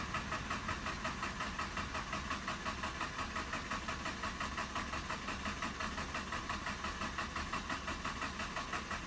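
A Mazda RX-8 engine cranks steadily without catching, a loud, even, rapid mechanical chugging that repeats throughout with no pauses or firing.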